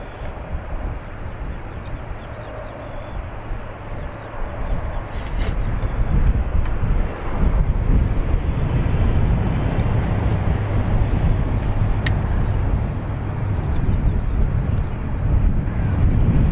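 A Ryanair jet departs at Dublin Airport, a broad, loud roar building and then holding steady with rumbling low end and wind buffeting, close and continuous.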